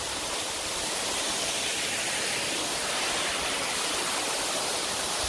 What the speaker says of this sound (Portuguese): Lá em cima lá a cachoeira.